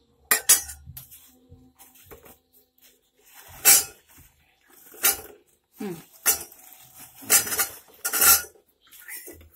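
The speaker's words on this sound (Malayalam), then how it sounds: "വറുത്ത് കോരി ഈ ബോളുകൾ നമുക്കിനി ഷുഗർ സിറപ്പിലേക്ക് ഇട്ട് കൊടുക്കാം" Fried bread balls for bread gulab jamun are dropped into sugar syrup in a pan and stirred, giving a series of close, sharp metallic clinks and scrapes of utensil on cookware with quiet gaps between, no voices.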